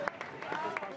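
Local Germans applauding as refugee trains arrive in Munich, a brief burst of scattered crowd clapping under a voice talking.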